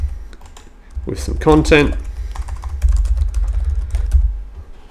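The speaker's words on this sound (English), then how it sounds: "And now I can just type my email" Typing an email on a computer keyboard, a steady run of close, light key clicks heard under a person's speech.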